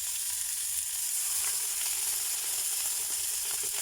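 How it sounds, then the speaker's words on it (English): Marinated chicken thighs for butter chicken sizzle and hiss steadily in a hot pan, a continuous close frying crackle with no voices. "you wanna hear the sizzle when you first put them on the pan"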